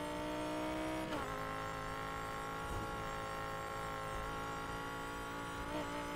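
Race car engine held at full throttle in Need for Speed Heat, a steady droning roar with sustained harmonic whine and brief pitch shifts, loud and continuous throughout a sprint race.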